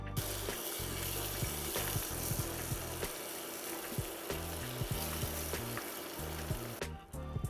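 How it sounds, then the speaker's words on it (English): Pecans toast in melted butter in a pan, giving a continuous soft sizzle with occasional light scrapes as they are rolled around. Fairly quiet, with no talk. "we're just gonna roll this around in this butter for a couple minutes just to get them nice and toasted"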